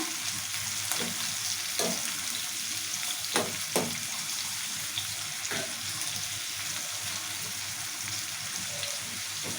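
Onions frying in oil for a cauliflower curry, a constant close sizzle broken by a few sharp clinks and scrapes of stirring, with no one talking.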